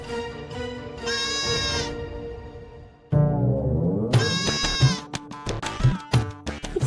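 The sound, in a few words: goat bleating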